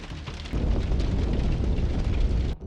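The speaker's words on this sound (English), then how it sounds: "A powerful explosion occurs, not typical for a missile." A truck loaded with kamikaze drones detonates after a HIMARS missile strike, producing a powerful, sustained deep rumbling blast that fills the clip before cutting off abruptly.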